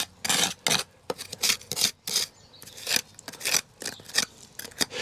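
A scraping trowel clearing dust from a garden railway track bed near a cable bundle, heard as repeated close, gritty scrapes in short irregular strokes with brief pauses between them.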